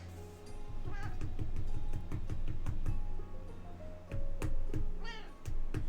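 A cat meows several times over steady rhythmic pulsing and clicking, each meow rising and falling in pitch, with a longer wavering call near the end, fairly close and clear.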